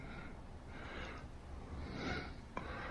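Heavy breathing from a played recording: three or four slow, noisy breaths in a steady rhythm, with a short sharp intake near the end, heard close over a hissy background and no talk.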